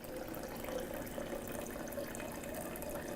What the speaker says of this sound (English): You can see the water pressure, it does come out pretty quickly, so you'll have a full bottle in no time.